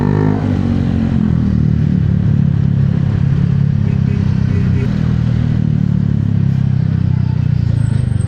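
Street traffic with motorcycles and cars, a loud continuous low engine rumble and clatter close by, steady throughout with no clear individual passes.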